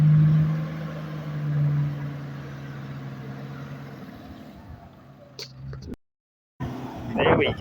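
A 4WD vehicle's engine strains and drones while bogged on a sandy track, a low steady rumble that fades before cutting out, with voices talking over it.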